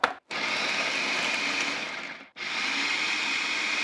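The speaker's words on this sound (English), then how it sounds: "We're going to add all of our cranberries in here, and we are just going to pulse this until they are coarsely chopped." A food processor pulses cranberries in two long bursts with a short pause between them, a loud steady whirring motor that cuts off sharply each time.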